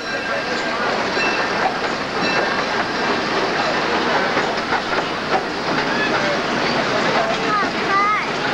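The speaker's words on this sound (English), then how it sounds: "Please remain seated until the train comes to a complete stop." A small Disneyland amusement park train rolls along its rails into Tomorrowland Station with a continuous rumbling clatter and occasional squeals, while an announcement voice speaks over it.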